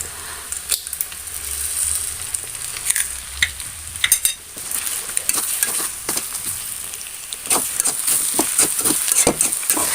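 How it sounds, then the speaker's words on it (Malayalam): Chopped parotta and beaten egg being stirred and tossed in a hot frying pan for a Thattukada-style chicken kothu parotta, with a steady sizzle under repeated scraping and clanking strokes of the utensil, close and continuous. "ഇനി നല്ലോണം അതൊന്ന് മിക്സ് ചെയ്തെടുക്കാം"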